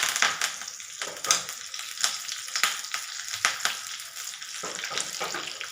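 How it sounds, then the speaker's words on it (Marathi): Red chilli pieces and curry leaves crackle and sizzle in hot tempering oil, a steady bright frying hiss broken by repeated sharp pops and spits throughout. "हे छान टाकले लाल मिरच्याचे तुकडे घालायचे शेवटी कडी कढीपत्ता घालूया यामध्ये"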